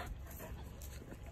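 A large, fluffy white dog whimpers and whines in short, faint bursts close by outdoors, with a few higher yips.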